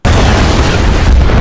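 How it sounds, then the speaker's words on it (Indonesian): A cooking stove left burning explodes in a film scene: one sudden, very loud, dense boom that fills the whole moment with roaring broadband blast noise and no voices. "sehingga terjadi sebuah ledakan yang diakibatkan oleh kompor tersebut."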